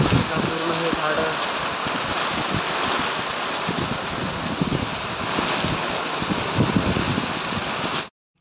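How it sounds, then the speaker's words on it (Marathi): Heavy unseasonal rain driven by strong wind, a loud, continuous roaring wash of downpour and gusts that cuts off abruptly at the end. "खूप वादळ वाऱ्याचा पाऊस आला आहे"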